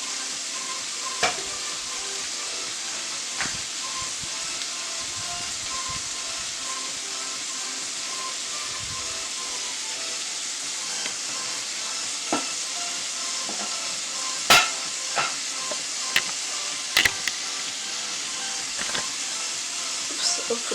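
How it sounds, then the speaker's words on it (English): Shrimp sautéing in a pan for a sesame snow pea dish, a steady broad sizzle running throughout with occasional sharp utensil clicks and scrapes, close and moderately loud. "But now, the shrimp is sauteed."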